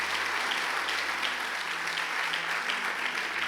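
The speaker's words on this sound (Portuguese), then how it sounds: "alguém aplaude o Senhor bem forte" A church congregation applauds during a sermon, a dense, steady wash of many hands clapping at close range without pause.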